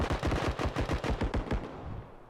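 Rapid bursts of gunfire on a shooting range in the game Bodycam, about a dozen shots in a fast steady rhythm for most of the clip, loud and close, then trailing off.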